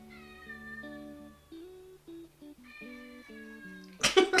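A cat meows repeatedly while crying at a door indoors, a series of clear, drawn-out cries at moderate distance, ending in a sudden louder burst of noise.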